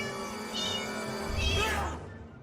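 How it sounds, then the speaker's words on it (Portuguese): A single drawn-out meow from a cat, fairly close and clear, rising and falling over about two seconds with no talk over it. "Farelo, se você consegue me ouvir, mia 3 vezes."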